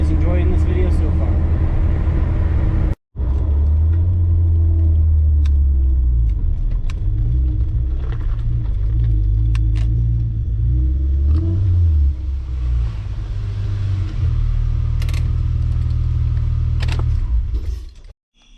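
Inside a supercharged Acura TL as it accelerates hard, a loud, steady engine drone and road rumble build and hold, dropping out briefly once and tapering off at the end, with no words heard.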